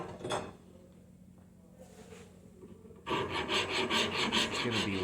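Bevel filed into the edge of a wooden guitar body: a few slow, quieter rasping strokes, then a stretch of fast, rhythmic, loud back-and-forth filing close by, without talking.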